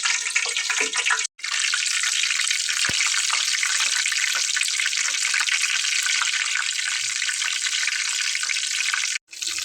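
Brinjal and potato pakora, dipped in batter, frying in hot oil over medium-low heat: a steady, dense, close sizzle that runs almost unbroken, with two brief dropouts.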